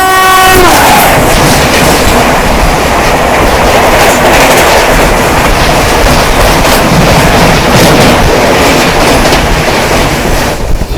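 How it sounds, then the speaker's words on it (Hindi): The Poorva Express races at high speed through Dankuni junction, with a loud horn blast at the start and then a continuous roar of the wheels and a rhythmic clickety-clack on the rails. "अभी फ़िलहाल हमारी ट्रेन हाई स्पीड में स्किप कर रही है दानकुनी जंक्शन को"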